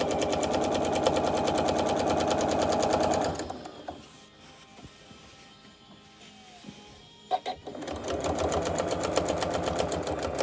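A sewing machine stitches a line on a quilt, a loud close whirring run that stops for a few seconds of soft handling noises and then starts up again just as steadily.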